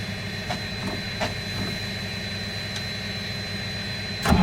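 A freshly carburetor-repaired engine, cranked on a cold 47-degree day, runs with a steady low idling rumble at close range that swells briefly louder near the end.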